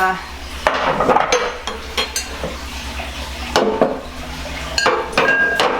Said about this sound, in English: we lift up our little whisk and let it spin off the cookie